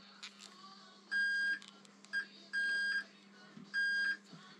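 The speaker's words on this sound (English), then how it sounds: "You hear the beep?" Three steady electronic beeps from a continuity tester checking the weld connections in the heated grip wiring of a BMW R1200 motorcycle, each lasting about half a second, clear and close over quiet background.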